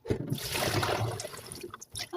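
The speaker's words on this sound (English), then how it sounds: "I'm gonna go ahead and pour this out" Liquid pours out of a cooking pan in a steady close splashing trickle that tapers off near the end, with faint kitchen noise.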